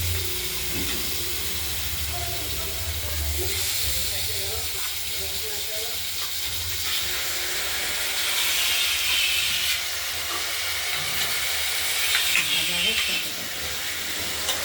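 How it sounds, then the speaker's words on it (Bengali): Cut potatoes fry in a pan with a constant moderate sizzle and hiss, swelling slightly at times, while scraping and kitchen clatter sound nearby. "আলুগুলোকে ভেজে নিই"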